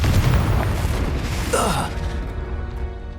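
A fiery Confringo spell blast in Hogwarts Legacy, a deep rumbling boom opening loud and close, followed by a crackling burst midway and a fading roar.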